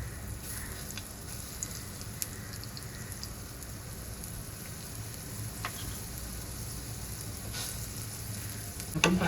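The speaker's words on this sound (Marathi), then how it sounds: "आता आपण हा पराठा शेकून घेऊया. ते पॅनमध्ये मी थोडं तेल घेतलं आहे," A paneer paratha fries in oil in a pan, giving a steady, soft sizzle with faint crackles and a few sharper pops that build toward the end, heard alone without voices.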